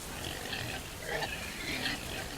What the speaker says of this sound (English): But the pigs are going in there.